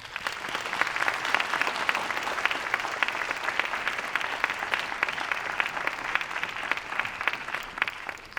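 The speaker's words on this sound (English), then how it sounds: "Big round of applause for them." Audience applause for student presenters at the 2024 Bay Area Day of Remembrance: a dense, even wash of many hands clapping that holds steady throughout.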